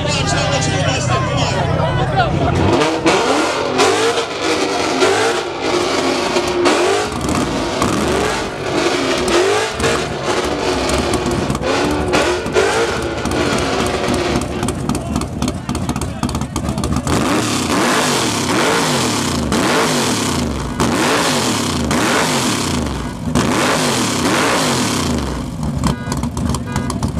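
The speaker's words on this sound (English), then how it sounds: "this is what like a 9-second quarter-mile car sounds like" A 9-second quarter-mile car at a car meet revs its engine loudly and repeatedly for almost half a minute, with crowd chatter and voices mixed under the roar.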